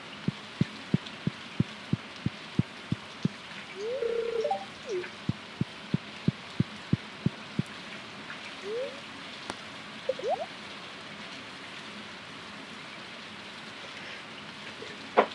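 Steady rain falls in the farming video game Stardew Valley as a soft, continuous hiss, with a regular run of light taps early on and a few brief chirps scattered over the ambience; no one talks.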